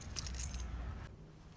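A bunch of keys belonging to an abandoned 1967 Chevy Caprice jingles close by, a bright metallic clinking over the first second before it stops abruptly, leaving quiet low background rumble.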